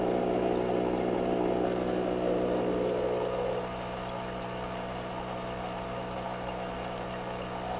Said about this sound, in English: we can open the ventilation valve so that we have bubbles